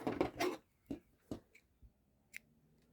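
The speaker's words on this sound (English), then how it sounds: "now we're going to cut our purple yarn off" Scissors snip through purple yarn after a small crocheted ring is finished, giving a quick cluster of sharp, close cuts followed by a few softer, separate clicks and a light metallic tick, all in a quiet room.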